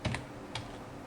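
Quiet computer keyboard typing while writing HTML code, a few soft clicking keystrokes with a short gap between them, heard close and alone.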